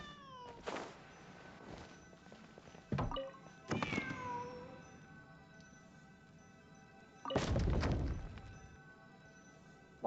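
Cat meows from inside the Genshin Impact video game, a few separate calls spread across the stretch, fairly clear over a low game ambience with some thumps and a louder burst near the end.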